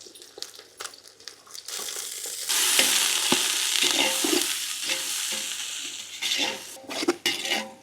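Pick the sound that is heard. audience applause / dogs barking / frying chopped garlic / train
frying chopped garlic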